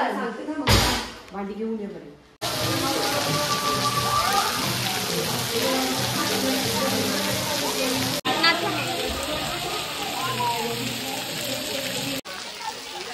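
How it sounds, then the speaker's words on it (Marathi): Heavy rain pours steadily at a family farmhouse, a dense, loud and unbroken hiss that holds through almost the whole stretch after a brief opening of voices and clatter. "इथे खूप जोरात पाऊस आलाय"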